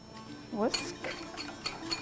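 A whisk clinks against a bowl while mixing a dressing of red wine vinegar and Dijon mustard, giving a few quick metallic taps and scrapes in close, moderate detail, with a brief voice just before.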